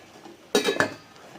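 A metal lid clanks down onto a pot of boiling vegetables with a brief clatter and a small rattle, close by against quiet background.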